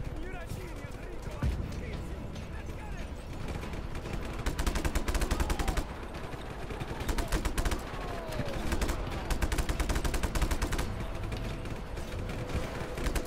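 Tank cannon fire in the video game Just Cause 3 comes as dense, rapid bursts of shots at moderate loudness, repeating steadily for most of the stretch with short lulls between volleys.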